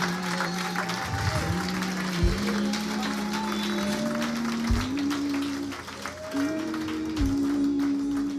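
Church congregation applauding steadily throughout, a broad wash of clapping with voices over it.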